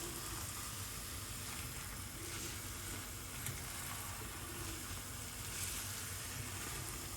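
Steady, dense sizzling of Ethiopian shiro sauce with potatoes frying in a hot pan, a continuous crackling hiss with no talking.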